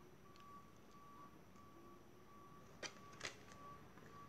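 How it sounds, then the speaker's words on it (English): A recycling truck reversing at a distance gives faint, evenly spaced high beeps over a quiet room hum, with a couple of brief clunks near the end. "I'm sorry about the noises of the recycling truck."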